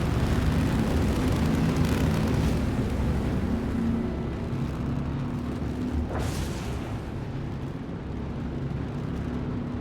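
Spaceship engines firing up in the Star Citizen video game: a loud, steady roaring rumble with broadband whoosh, swelling briefly around the middle before settling into a sustained drone.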